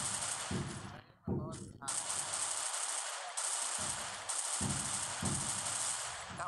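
Rapid bursts of SCAR rifle fire from a battle royale video game, loud and dense, broken by a short pause, with an excited voice talking over the shooting throughout.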